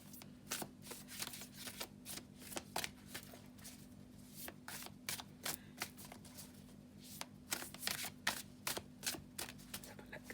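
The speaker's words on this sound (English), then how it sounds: "I'm just going to have a little shuffle of the Witch's Wisdom." Oracle cards being shuffled in quick bursts of crisp riffling and flicking, with short pauses between, close to the microphone over a steady low hum.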